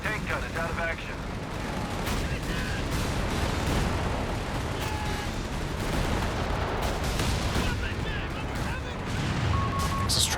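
Anti-tank guns and strafing fire in a Company of Heroes 3 battle produce a dense, sustained roar of gunfire and bursts, with rapid cracks and booms layered continuously over the whole stretch at close range.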